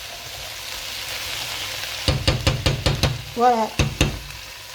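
Butter cooking in a pan for beef bourguignon, a steady soft sizzle underneath a run of sharp utensil knocks against the pan, with a brief spoken word partway through.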